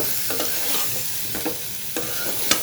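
Koi fish with potatoes and greens stems sautéing in a pan, a steady sizzle broken by a few scraping stirs of a spatula, close by with no talking.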